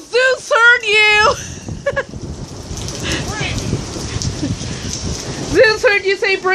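Heavy rain pours steadily through a thunderstorm with pea-sized hail reported, a dense continuous wash of drops close by, while people talk and exclaim over it at the start and end.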